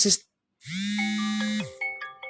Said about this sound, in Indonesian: ada yang telepon.